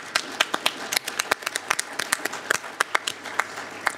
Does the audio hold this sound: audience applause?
yes